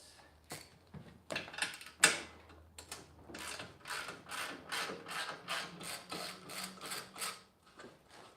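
A ratchet wrench on a 12mm bolt clicks in quick repeated bursts, fairly close and quiet, while the front bumper of a 2023 Honda Pioneer 520 is unbolted, with a few knocks in between.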